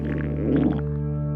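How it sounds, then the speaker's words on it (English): A low, gurgling stomach rumble swells for about a second and then fades into a steady, droning hum. "Don't worry, that's just my stomach again."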